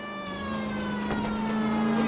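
Police car siren in the video game L.A. Noire during a vehicle chase, a steady wailing tone with rising harmonics held over engine rumble, loud and close, with no talk.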